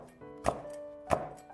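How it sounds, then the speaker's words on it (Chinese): A knife chops small chili peppers into rings on a cutting board, two distinct, fairly quiet thunks spaced about half a second apart. "再准备2个小米辣切成圈"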